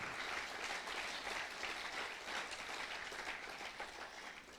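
A church congregation applauds, sustained, even clapping from many hands filling the room for several seconds before tapering slightly, with no speech over it.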